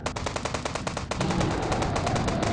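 Rapid automatic gunfire from a dinosaur-hunting video game, a fast string of sharp, evenly spaced shots for about a second, then a denser, blurred burst of firing that continues to the end.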